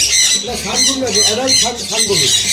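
Adult sun conure parrots in an aviary giving repeated harsh, shrill squawks in quick bursts, loud and close, with a voice talking underneath.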